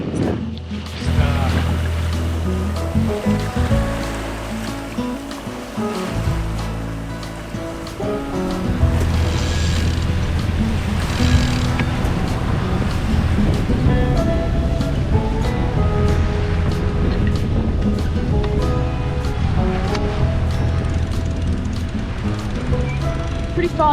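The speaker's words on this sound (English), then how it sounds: "So we're almost sailing now." A sailboat moves through open ocean waves downwind: continuous rushing water and wave wash against the hull, with a steady low droning hum underneath and gusts of wind, loud and close throughout.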